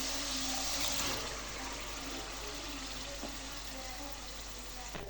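Boiled chana dal poured with its cooking water into a pan, a loud splashing pour at first that settles into a steady sizzling, bubbling hiss.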